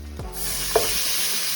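Jerk oxtails dumped into a hot pan on a stove, a soft thump followed by a loud, steady sizzle and hiss of frying that carries on alone without any talk.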